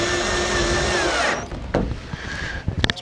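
A power drill drives screws into the opening rear window frame of a Fiat Ducato-type camper van, whirring steadily for over a second and then stopping, followed by a short burst and several clicks and knocks.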